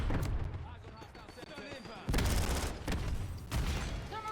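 Video game PPSh submachine gun fire in Call of Duty, dense bursts of rapid shots with loud surges, heard under a talking voice.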